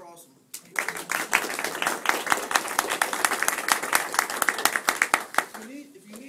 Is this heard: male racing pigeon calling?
no